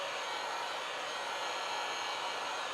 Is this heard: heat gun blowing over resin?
yes